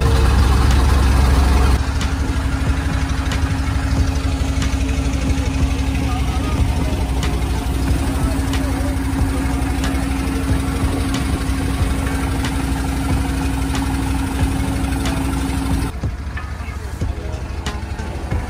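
A motor boat engine runs steadily on Kaptai Lake in Rangamati, a constant low drone with a sustained hum that carries on for most of the stretch before dropping off near the end.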